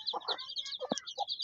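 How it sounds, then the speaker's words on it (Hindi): A hen clucks in low, short bursts close by while her week-old chicks peep continuously in high, rapid chirps all around her. "देखें मुर्गी चूचों के आगे हो गई"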